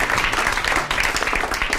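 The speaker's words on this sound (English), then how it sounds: "Clap it up, man." Audience applause fills a live stand-up comedy show in Elmers, New Jersey: a steady, dense wash of clapping from a nearby crowd sustained throughout, with no speech over it.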